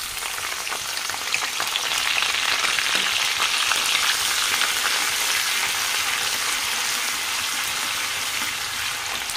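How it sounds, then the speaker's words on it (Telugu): Onions and green chillies fry in hot oil in a pan, making a steady, close, loud sizzle with crackling that carries on without pause. "ఇలా ఉన్నప్పుడు మనం దీంట్లోకి ఉల్లిపాయలు వేసుకుందాం. ఉల్లిపాయలు, పచ్చిమిర్చి,"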